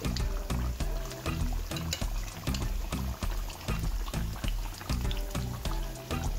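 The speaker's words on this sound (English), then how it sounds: "I'm going to put some more water in here" Water is poured into a pot of Jamaican curry goat as it cooks, making a continuous, close, bubbling and splashing pour with no talking.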